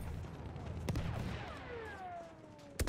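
Sniper rifle shots in Battlefield 1, two sharp, loud single cracks a couple of seconds apart, with dull battlefield rumble and a ringing decay between them.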